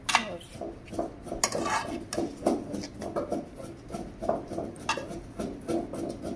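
Chicken biryani being served out of a cooking pot onto a dish, with a spoon scraping and clinking against metal in a run of close, moderately loud scoops and taps.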